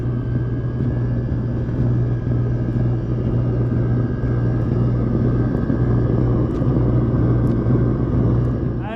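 Steady, loud mechanical rumble and drone of a running diesel heater burning waste motor oil, continuous and unchanging with a low hum underneath and faint ticks.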